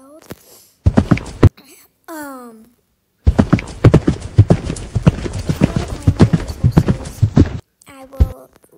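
Horse hooves clip-clop rapidly in the Roblox game Wild Horse Stables, loud and close in bursts, with a synthesized horse whinny and neigh between the runs of steps.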